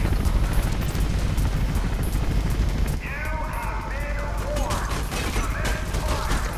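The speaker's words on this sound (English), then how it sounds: "Chopper spotted." A helicopter in the Mirror's Edge video game drones overhead with a thick rotor roar, loud at first and then easing under scattered game effects and clanks as the chase continues.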